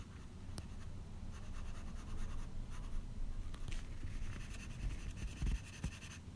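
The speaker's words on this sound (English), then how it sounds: "I'm using the darkness of the charcoal pencil to create these dark eyebrows and mysterious shadows in the corner of the eyes." A charcoal pencil shades a portrait on paper, giving soft, close scratchy strokes in repeated bursts, quiet and steady with no voices.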